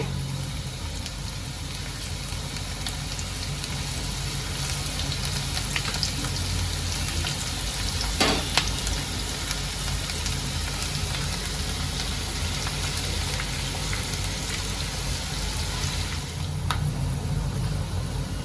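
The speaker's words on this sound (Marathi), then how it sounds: "अशाच मी भेंडी सगळे तेलामध्ये चांगले फ्राय करून घेते" Okra (bhindi) fries in a batch of hot oil, with a constant, dense sizzle that stays close and even throughout, broken by a couple of faint clinks.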